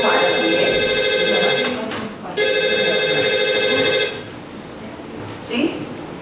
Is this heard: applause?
no